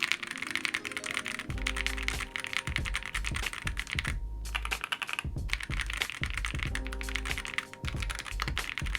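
Fast typing on a clacky Vega 65 mechanical keyboard fitted with Gateron Black Ink switches, dense close-up keystrokes with a few brief pauses and no talking.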